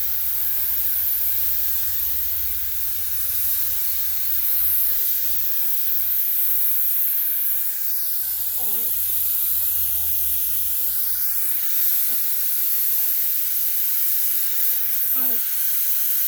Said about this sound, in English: I just release the pressure